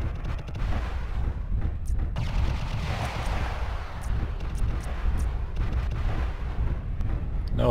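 Weapon fire from mechs in MechWarrior Living Legends on a lakefront map, a steady roar of heavy booms and blasts blending into continuous rumbling bursts, with sharper reports scattered through.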